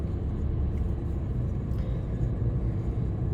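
Car driving, heard from inside the cabin: a steady low engine and road rumble, moderately loud and continuous, with no speech during the stretch.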